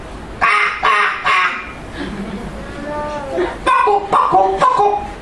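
A voice imitates the cries of many flying birds, giving several short, honking squawks in quick groups, loud and close, during a balloon sermon.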